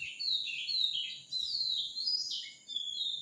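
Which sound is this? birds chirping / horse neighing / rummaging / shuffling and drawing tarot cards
birds chirping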